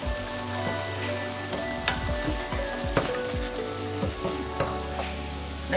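Small-cut potato pieces sizzle and fry steadily in a pan on a gas hob, with a spatula gently stirring and scraping through them at intervals; the frying is close and continuous, with no talking.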